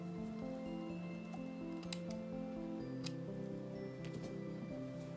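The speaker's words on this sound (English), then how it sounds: "I'm going to trim this" Scissors trimming lace for a crazy-quilt style lampshade give a few faint, crisp snips over a steady background hum.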